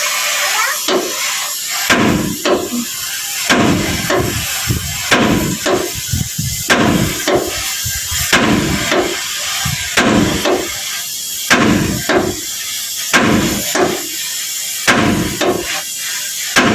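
Repeated heavy hammer blows strike a car part heated with an oxy torch during a repair, landing in an uneven rhythm of loud, close metallic whacks across the whole stretch with no talk.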